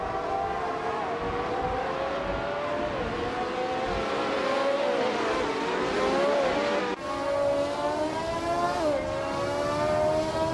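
Engine of a 1971 Brabham BT34 race car in a racing video game, a steady high whine with shifting pitch as it accelerates and changes gear, loud and continuous throughout.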